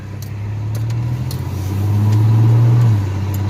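A 1985 Chevy S10 pickup with a swapped 3-speed transmission drives off, its engine humming low and close, then swelling as it accelerates before the revs drop back.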